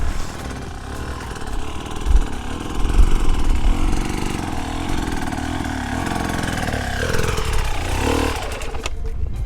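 A hard enduro motorcycle engine runs steadily nearby, idling and revving in uneven surges as it rides slowly along a rut, loud and continuous throughout.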